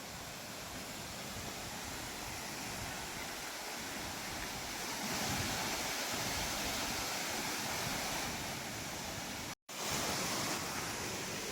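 Steady, dense rushing water roars continuously at Bahubali Waterfalls near Vizag, a broad wash of noise like falling water close by, with one brief dropout near the end.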